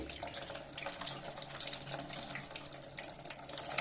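Water flows out of both sides of an Opel Vectra heater core after cleaning with boiling water, a steady, close splashing gush that keeps going without pause, with no talking.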